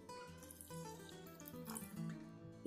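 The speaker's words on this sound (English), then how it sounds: "And I will add some water." Water pours from a tap or vessel into palak corn gravy in a home kitchen, a quiet trickling splash with faint liquid burbles running steadily throughout.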